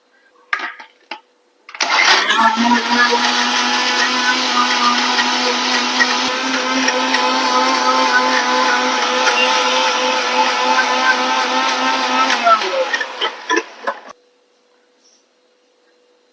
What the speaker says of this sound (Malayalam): ഇനി നമുക്കിത് നന്നായിട്ട് അടിച്ചെടുക്കാം